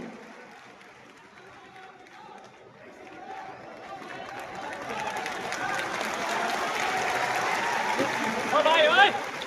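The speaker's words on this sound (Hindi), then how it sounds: "एक बार जोरदार तालियों के साथ स्वागत करते रहिए हमारे सभी गणमान्य अतिथियों का" Audience applause welcoming distinguished guests at a large Khan Sir education seminar, starting soft and swelling into sustained, dense clapping from a big crowd, with a voice speaking over it early on.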